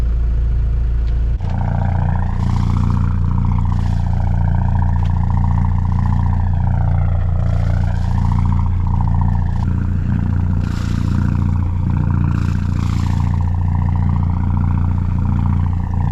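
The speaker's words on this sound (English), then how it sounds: "Engine's on, unfortunately. Not enough wind." A sailboat's engine motoring through a calm at sea runs continuously at close range, a steady low drone with a faint wavering whine and occasional clatter above it.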